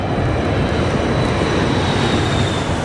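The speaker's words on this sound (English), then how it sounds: "As the plane descends" A descending airliner on its final approach through stormy weather, with a loud, steady broadband roar of engine and rushing air that holds evenly throughout, like the sound heard inside the cabin.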